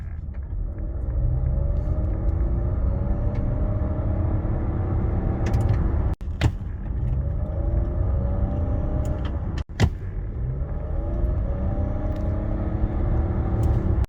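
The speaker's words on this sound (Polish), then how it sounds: "nie ma tutaj wycia silnika, jest tylko w miarę ładne przyspieszenie i zwykła praca jednostki spalinowej" A Nissan Qashqai 1.5 VC-T e-Power 190 accelerates while its combustion engine runs as a generator. The low rumble rises steadily from inside the cabin and is broken by two brief thumps.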